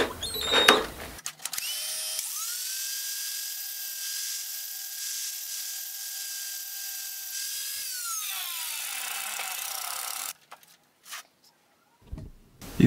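A screw spins in a drill chuck while its head flange is ground off to fit a counterbore hole, giving a steady, loud high-pitched grinding whine for about eight seconds that winds down, with clatter before and after.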